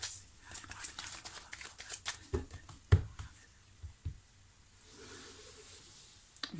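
Playing cards are turned over and laid down during a card reading, a series of close, soft flicks, slaps and shuffling rustles at an irregular pace, quiet overall.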